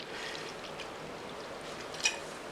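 Steady trickle of water being poured into a jar of cucumbers for pickling, a soft continuous stream with a brief small clink near the end.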